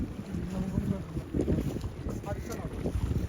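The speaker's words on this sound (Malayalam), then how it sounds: "ബോട്ടിന് ഒരു വേറെ ബോട്ട് വലിച്ചുകൊണ്ടിരുന്നുണ്ട്" A low boat engine rumble churns steadily beneath wind buffeting the microphone, with water sloshing nearby and faint voices at times, the boat towing another boat near Chaliyam.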